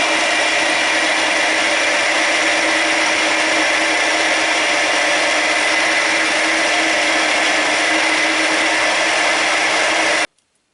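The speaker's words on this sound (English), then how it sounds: "drill the 4 holes, 2 parts in one go" A power drill runs continuously for about ten seconds, boring four holes through two stacked metal parts for a table support on a Deckel machine, a loud steady whine that cuts off abruptly at the end.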